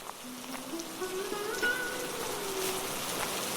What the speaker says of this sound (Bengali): ভাবছি এখনো তো বৃষ্টি পড়ছে, নদীতে কি মাছ পাবো?